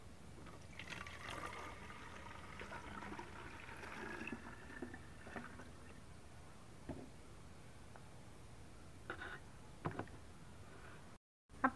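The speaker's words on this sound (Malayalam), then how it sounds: "ഇതിനകത്തേക്ക് സ്പ്രെയറിലേക്ക് ഒഴിക്കണം." A whitefly remedy diluted with water is poured into a garden sprayer, making a faint liquid trickle for the first few seconds, followed by quiet handling clicks and taps.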